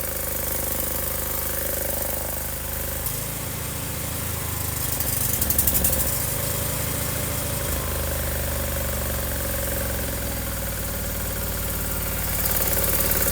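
An old, neglected John Deere engine runs at a steady idle with a low rumbling throb, close and continuous, its tone shifting briefly partway through.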